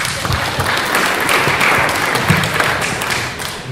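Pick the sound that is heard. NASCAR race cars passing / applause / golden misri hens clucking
applause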